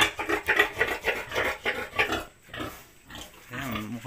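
A pig on a small backyard farm grunts in repeated short snorts at close range, pausing briefly midway before the grunting resumes.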